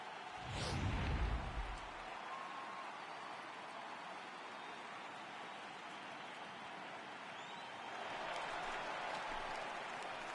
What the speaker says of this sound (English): The crowd is ready to erupt as their guys get set to take the field.